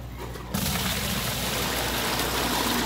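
Water rushes steadily through an aquaponics filter once its valve is opened, starting abruptly after a brief quiet moment and then flowing loud and continuous, close by.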